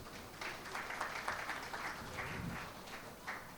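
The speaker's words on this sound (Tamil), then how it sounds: "இந்த பெண்கள் சிங்க பெண்களாக நடைபோடணுங்கிறதுக்காக அவங்கள வாழ்த்தி ஒரு கைத்தட்டல் கொடுக்கலாம்." Audience applause fills a hall at a Meenakshi & Co golden jubilee celebration and investor meet, a dense, steady patter of many hands clapping at moderate volume throughout.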